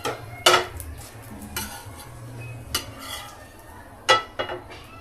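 Food lifted from a pan onto a plate: a handful of sharp metallic scrapes and clinks from a spoon against the pan, over a low background hum with a faint sizzle and no talking.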